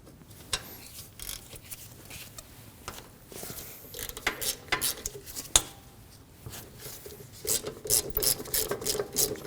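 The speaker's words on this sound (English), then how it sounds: "We'll remove the caliper bracket bolts using a 14mm." A ratchet wrench loosens 14mm caliper bracket bolts on the rear brakes of a 2013-2015 Subaru XV Crosstrek, giving bursts of close, rapid clicking with metallic knocks and pauses between strokes.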